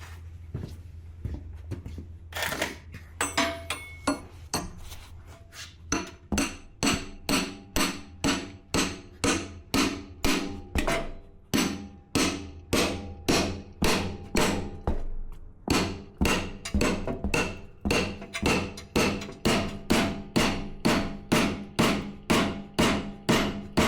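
Hammer blows driving a pickle fork to separate a steering component on a Jeep CJ5, a long run of sharp metallic strikes at a steady, quick rhythm, close and loud, with a short pause partway through and no talking.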